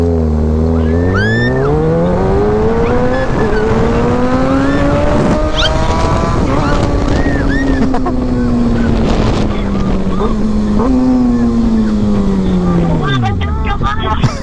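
A big motorbike's engine runs loud and close throughout, its pitch rising and falling with throttle changes and gear shifts, under strong wind noise while people talk over it.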